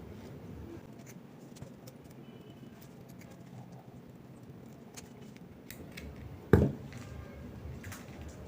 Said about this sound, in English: so I'm going to cut off the net